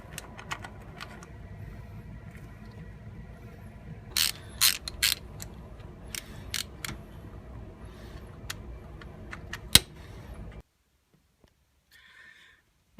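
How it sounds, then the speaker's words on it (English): A hand ratchet loosens 12mm bolts on a Nissan Murano during oil cooler work, giving quick close clicking runs with sharper metallic snaps, then stopping and going nearly silent. "these are 12mm bolts that I'll be taking off"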